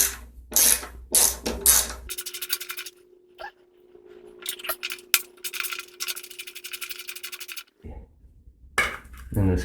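A ratchet with a 1/4 inch socket clicks in quick rapid runs while removing the engine cover of a vintage Sears 131.91280 with a Briggs & Stratton 92908 engine, close up between clanks of metal handling.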